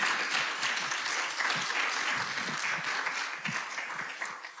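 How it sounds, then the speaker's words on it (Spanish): A live audience breaks into warm, sustained applause, many hands clapping together in a steady roar that stays full throughout and eases off slightly toward the end. "aplausos"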